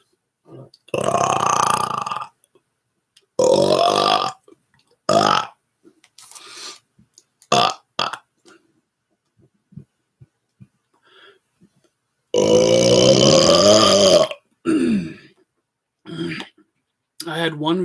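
A person lets out a series of loud, drawn-out burps, several long belches separated by pauses with quieter throat clicks and short grunts between them, close and alone.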